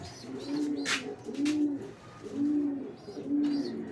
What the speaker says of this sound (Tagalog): nagdadatingan ng mga ibon mga kalapatids